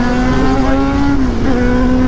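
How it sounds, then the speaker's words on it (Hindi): A superbike accelerating hard on a road, a loud, steady, high-pitched engine whine holding close throughout with a slight dip in pitch partway through. "ओ भाई अलियान और उन्होंने बाइक खींच लिया"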